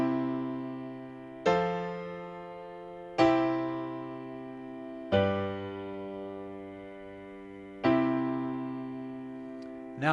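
Solo piano playing a three-chord progression, each chord struck in turn and left to ring and fade, about every two seconds, soft and sustained.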